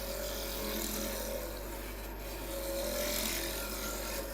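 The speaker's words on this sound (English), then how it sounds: "This is a lathe." Rough rasping scrape of a One Way 2436 wood lathe turning wood, a steady, moderately quiet cutting sound over a low motor hum, no voices.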